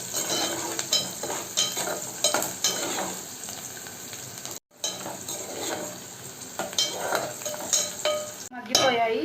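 Sliced onions with turmeric sizzle steadily in a hot pan while a spoon scrapes and stirs them in repeated strokes, with a brief pause partway through and loud, close frying throughout.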